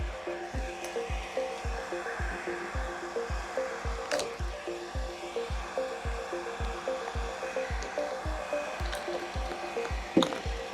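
A heat gun warms the paint protection film on a car hood during PPF removal, giving a steady blowing hum with a regular rhythmic pulsing beat throughout and a brief clunk near the end, no talking.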